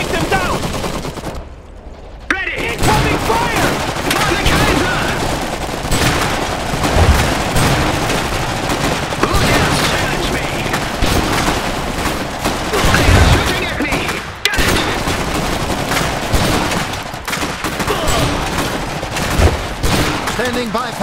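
Battlefield gunfire from the Iron Harvest strategy game: dense machine-gun bursts and rifle volleys with scattered booms, loud and nearly continuous, over combat noise and brief unit voice callouts.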